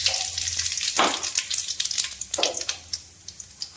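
Two broken dried red chilies and a spoonful of cumin seeds sizzle in hot oil in a pan, giving a loud, close, crackling hiss with quick popping bursts throughout and no talking.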